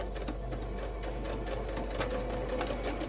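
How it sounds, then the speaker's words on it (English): A sewing machine stitches a quilt block seam, needle starting in the down position, with a rapid, even mechanical whir and tick running steadily, quiet and close, with no talking. "So you just want to put your needle in the down position on that line and then start stitching."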